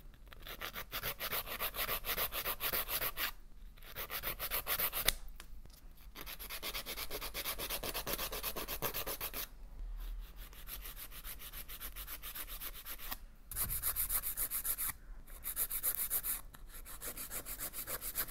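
A nail file rasps back and forth across artificial nail enhancements in quick, even strokes, close and dry, pausing briefly a few times before resuming, with no talking.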